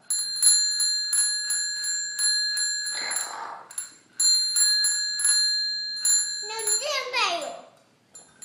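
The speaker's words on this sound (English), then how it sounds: "Ring the bell. Ring the bell." A bell rings repeatedly in a steady, clear ringing pattern with bright metallic tones, broken by a brief pause, while a young child chatters and squeals over the ringing near the end.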